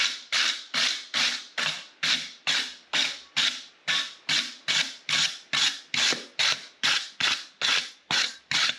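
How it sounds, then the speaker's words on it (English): A wire brush scrubbing scale off a freshly forged steel hammer, about twenty rhythmic, scratchy back-and-forth strokes at a steady pace, close and loud with no talk. "Just wire brushing the scale off."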